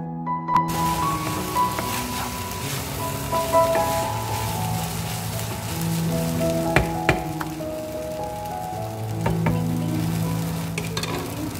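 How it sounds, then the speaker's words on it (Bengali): Onion, ghee and Gobindobhog rice fry in a pan with a steady sizzle and rough stirring scrapes, close and continuous, while a faint melodic tone plays in the background. "পেঁয়াজ, ঘি আর গোবিন্দভোগ চাল ভাজার যে একটা এত সুন্দর গন্ধের উৎপত্তি হয়েছে"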